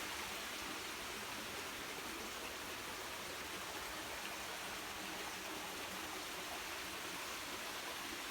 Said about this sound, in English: you couldn't hear all this water sound